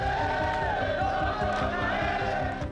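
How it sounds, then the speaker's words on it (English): Congolese police officers sing together in a crowd, a steady massed chorus of voices with a regular clapping beat underneath, loud and close throughout. "Crowds of Congolese police officers singing and clapping."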